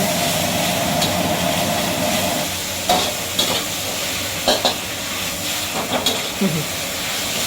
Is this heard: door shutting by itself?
no